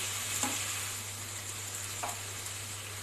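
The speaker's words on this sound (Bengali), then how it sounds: "এবার এই টমেটো পেস্টটা দিয়ে আমাকে ভালো করে এবার এই সবজিটাকে কষে নিতে হবে।" Mixed vegetables sauté with tomato and ginger paste in a pan, making a steady, fairly faint sizzling hiss with a couple of soft stirring scrapes, and no voices.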